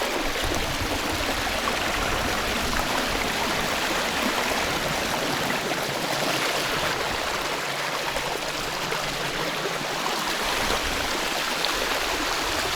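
Steady rushing and gurgling of river water running over a shallow rocky riffle during a flood, continuous and fairly close, with no voices.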